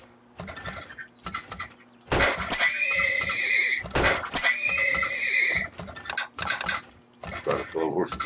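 Horses neigh and whinny in the Turmoil video game, two loud drawn-out calls standing out over a busy mix of game effects, clip-clop and clicking, with someone talking at times.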